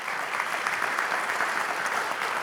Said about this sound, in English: Please join me with a round of applause to our panel members.